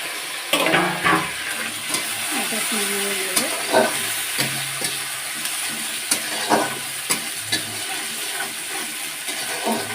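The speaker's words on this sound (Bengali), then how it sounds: "আমি দিয়ে দেবো টমেটো আর কাঁচা লঙ্কা এটাও ভেজে নেব" Tomato and green chili frying in a pan with ginger and garlic, a steady sizzle under repeated spatula scrapes and clinks of stirring, close and moderately loud throughout.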